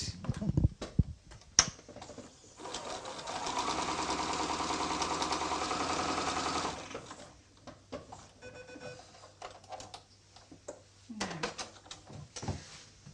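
A domestic sewing machine runs one steady burst of about four seconds, stitching two fabric squares together with a quarter-inch seam, framed by brief handling clicks and rustles before and after.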